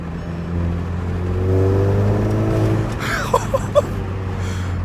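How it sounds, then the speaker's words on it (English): A car engine fitted with a Racingline R600 intake drones steadily as it accelerates in third gear, with a rising turbo-spooling whir layered on top, then a few short sharp puffs near the end. "you can really hear the fucking turbo spooling now, and the blow off is amazing"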